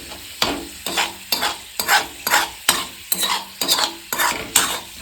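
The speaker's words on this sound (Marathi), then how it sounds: "एकदम लसूण एकदम तळूनच निघला पाहिजे याच्यामध्ये" Garlic fries in oil while being stirred in brisk, regular strokes, about ten loud, close scraping sweeps over a steady sizzle, with no talking.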